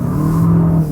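Turbocharged engine of a 2021 Mazda6 with a 6-speed automatic, accelerating hard from a stop in sport mode: a loud, steady, rising engine drone heard from inside the car, with no talking.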